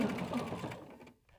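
A sewing machine runs seams along a fabric strap for a cup stand, a brief close burst that stops quickly and trails off into quiet.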